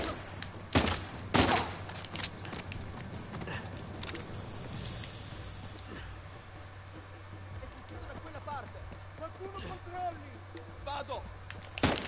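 Gunshots in Uncharted 4, several sharp loud cracks early on, then quieter scattered battle sounds and a final shot, with a player talking over much of it.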